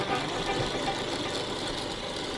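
A motorbike engine drones steadily while riding an off-road hill track near Sitakund Eco Park, a continuous loud rumble with wind-like broadband noise and no talking.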